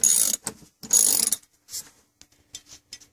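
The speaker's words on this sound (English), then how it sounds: "Using your 18mm deep well socket on either a 1/2 inch or a 3/8 drive with a 12-inch extension, remove both nuts from the seat bolt" A ratchet with an 18mm deep well socket and extension loosens the seat bolt nuts in a 2013-or-newer Ford Escape: two long bursts of rapid metallic clicking, then shorter, quieter ratchet strokes, close and alone.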